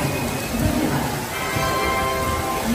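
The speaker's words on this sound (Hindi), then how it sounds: "एकता नगर भारी वाली बारिश" Heavy monsoon rain pours down at Ekta Nagar railway station, a dense, steady hiss of falling water close by, with no voices heard.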